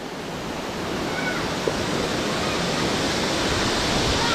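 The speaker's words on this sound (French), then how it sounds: "Il y a de belles petites cascades" Small waterfalls flow steadily at a jungle swimming spot near Banyuwangi, Indonesia, a continuous broadband rush of falling water that stays close and fairly loud throughout, with no voices over it.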